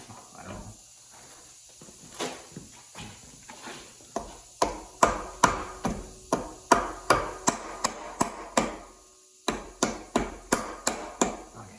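Impact wrench driving a bolt on a 5.3L LS engine during a rebuild, heard as a run of sharp, loud rattling bursts repeated in quick succession, close by, with short pauses between them.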